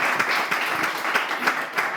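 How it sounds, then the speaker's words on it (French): Audience applause in a French television studio, honoring a guest witness's courage: steady dense clapping throughout, fairly close and sustained, with no talk over it. "Est-ce qu'on peut juste applaudir le courage de notre témoin?"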